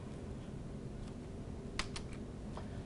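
A couple of quick, faint key taps on a computer keyboard as the Alt and equals keys are pressed, close but quiet over a steady background hiss.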